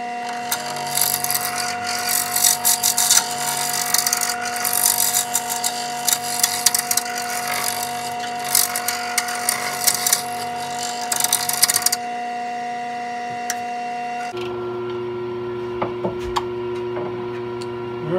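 A wood lathe turns a pen blank for a Monarch kit pen with a steady mechanical hum, while a tool scrapes the spinning wood in a dense rattly chatter that stops abruptly, leaving the motor running in a lower tone.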